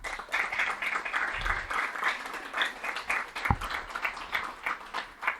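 A church congregation claps in steady, sustained applause, a dense patter of many hands throughout at moderate distance, with no speech over it.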